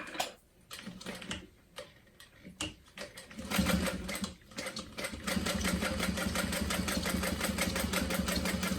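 A sewing machine stitches a bag's facing to its lining, starting with short stop-and-go bursts of needle clatter, then settling into a loud continuous rapid run.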